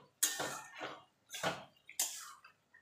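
Spoon scraping and clinking in a pot of prawn curry with slit green chillies and ridge gourd, three or four short bursts of stirring with quiet gaps between, close and fairly soft.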